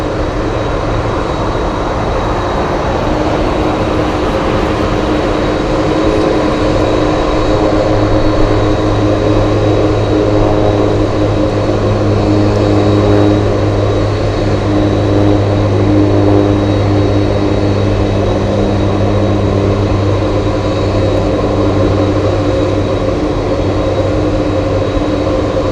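A Boeing 747 on a test flight at Anchorage Airport produces a loud, constant engine drone with steady tonal hum layered over it, running unbroken throughout.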